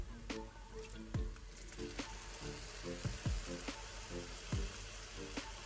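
Chicken fried rice fries with soy sauce in a pan, a soft steady sizzle with occasional wet drips and stirring scrapes, faint and close, under background music.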